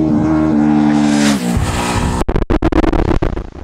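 A Ducati 749 V-twin supersport motorcycle on a race track gives a loud, close engine roar that climbs in pitch, then breaks into choppy staccato revs on the throttle.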